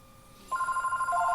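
A telephone bell begins ringing abruptly after a brief quiet stretch, its steady electronic trill continuing loud and close until the end, with no talking over it.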